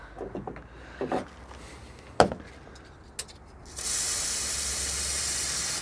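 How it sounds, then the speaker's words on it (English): A few light knocks and taps, then a steady close hiss of aerosol spray on a Ford Ranger roll cover that runs without pause to the end. "Let's give it one last spray actually."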